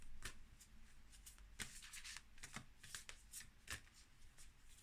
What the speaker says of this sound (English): let's pull another card to wrap it all up.